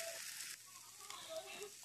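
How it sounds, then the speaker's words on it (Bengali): Onions and green chillies sizzle steadily in hot oil in a home kitchen pan while Maggi noodles are being made, a close continuous crackle that runs alone. "আর এখন কাঁচা লঙ্কা পেঁয়াজ দিয়ে একটু ভেজে নিচ্ছে"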